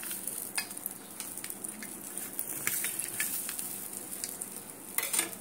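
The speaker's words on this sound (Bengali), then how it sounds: "কড়াতে রিফাইন তেল দিয়েছি, এটা ভেজে নিয়ে এসেছি" Food fries in refined oil in a wok: a steady, fairly quiet sizzle with scattered light clicks and scrapes of a utensil against the pan.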